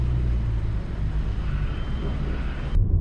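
Low engine hum and road rumble inside an Audi Q2 Sport with a 1-litre TFSI petrol engine pulling away, steady and moderately loud, cutting off abruptly near the end.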